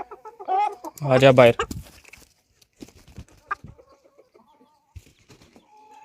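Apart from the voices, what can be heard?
hens fighting and clucking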